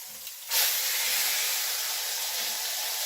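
A whiskey pot roast, just turned onto its side in a hot pot, bursts into a loud, steady sizzle that starts abruptly and holds strong throughout, with no talking over it.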